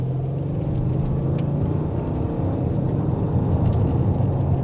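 A 2026 Audi RS7 Performance with a twin turbo V8 accelerates slowly in second gear, its engine a steady, low, rumbling drone heard from inside the car, holding an even level without sharp revs.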